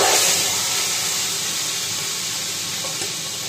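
Loud, steady sizzling and hissing of chicken frying in hot oil, close up, continuing without pause.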